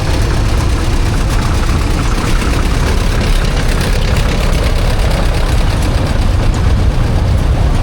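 A heavy Moline tractor engine idles loudly and close at a steam threshers show, a steady low chugging rumble with a fast, even knocking pulse throughout.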